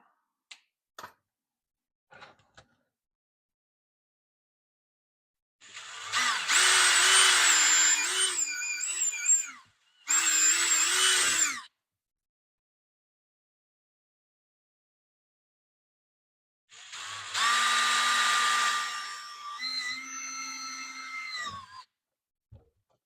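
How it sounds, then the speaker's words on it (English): A power drill whines through holes in a kydex sheath in two bursts, one several seconds long and then a short one. After a pause a third burst follows, with light taps at the start. "Get the holes marked for on the sheath side. Get those drilled out."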